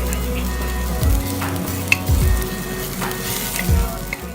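Mushrooms fry in olive oil in a pan for mushroom risotto, giving a steady broadband sizzle with a few louder thumps and stirring clatters. There is no talking.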